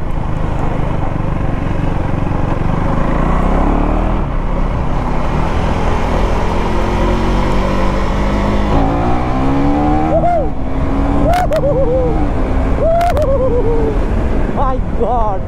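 A KTM Duke 390 Gen 3 motorcycle accelerates hard through its gears, the engine note climbing and dropping with sharp shifts and pops, mixed with heavy wind rush over a close, loud ride.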